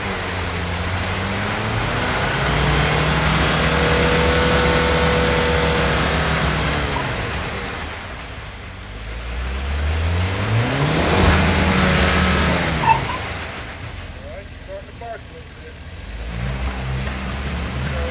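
A RAM TRX truck's engine revs in long, rising and falling surges while off-roading uphill at the Baby Gulch in an off-road ORV park, loud and close, with tires spinning under load.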